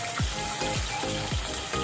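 Sambal chili paste frying in a pan, a close, continuous sizzle with a few low swooping scrapes as it is stirred.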